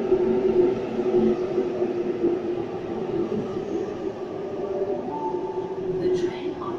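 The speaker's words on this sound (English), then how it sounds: "Have Waratah arriving. Into platform one, Penrith service." A Sydney Waratah train rumbles into platform one with a steady low drone, a faint squeal rising near the end; voices murmur in the background.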